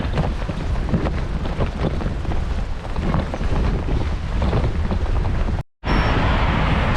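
Steady, loud wind roars and buffets across a microphone while cycling on a gusty day between Hammamet and Menzel Temim in Tunisia. The rumble continues almost unbroken, with one brief dropout near the end.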